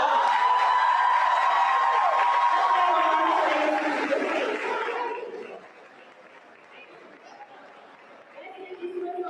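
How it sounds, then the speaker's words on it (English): An audience at a middle school promotion ceremony applauds and cheers loudly for an award recipient, a dense wash of clapping and whoops that fades after about five seconds, leaving softer crowd murmur. "Let's give you a round of applause."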